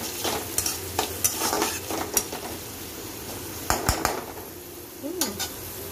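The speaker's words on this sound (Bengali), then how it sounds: "এই আলুর সাথে মানে এই পেঁয়াজের সাথে আমি এই আলুটা ফ্রাই করব" Potatoes frying with onions in a pan, a steady sizzle under repeated spatula scrapes and metal clinks against the pan, close by, with no talking.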